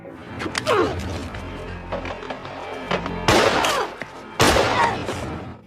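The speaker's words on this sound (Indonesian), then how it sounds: "Mason berhasil merebut pistol Lester, kemudian menembaknya." Two sharp, loud pistol-like shots ring out a second apart amid other scuffling impacts and noise, close and abrupt.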